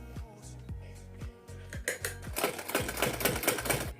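A sewing machine stitches a lace strip onto folded fabric from an old kurti, curtain or bedsheet, starting with a few slow separate thumps, then speeding up into a dense, loud, continuous run of needle strokes.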